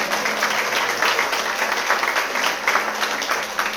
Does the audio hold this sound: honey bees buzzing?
no